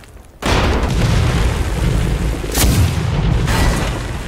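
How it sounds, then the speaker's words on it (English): Loud shotgun blast in the Vietnam War game Rising Storm 2, a sharp boom at the start followed by a rumbling roar of battle noise, with further blasts about two and a half and three and a half seconds in. "You don't even have to aim at this fucking shotgun"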